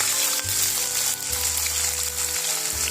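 Chopped onions frying in hot oil with mustard seeds and green chillies, a steady close sizzle throughout with a low hum beneath it.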